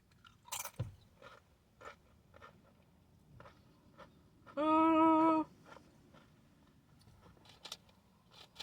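Close-up mukbang chewing and crunching while eating an Applebee's appetizer sampler, soft repeated bites and mouth sounds throughout, with a brief loud tonal beep in the middle.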